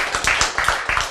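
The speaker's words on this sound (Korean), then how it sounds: "박수." An audience at a church sermon claps briefly in a quick, even rhythm: a short burst of hand claps with no talk over it.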